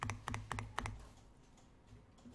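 Five quick, crisp presses of the Enter key on a computer keyboard, clustered tightly together near the start, then quiet room tone afterward.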